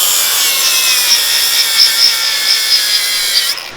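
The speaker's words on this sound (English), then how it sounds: "In that area, we need to grind it down." Power grinder wearing down metal on the front end of a 1000 hp Ford Explorer Sport Trac build: a loud, close, continuous high-pitched grind with slight surges, steady throughout and no talking.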